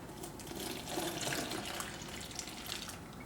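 Cold milk streams into a hot roux in a pan for scalloped sweet potatoes, giving a soft, steady liquid pour with light splashy hiss, faint and continuous throughout.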